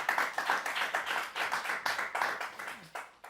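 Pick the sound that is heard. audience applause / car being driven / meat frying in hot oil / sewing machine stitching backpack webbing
audience applause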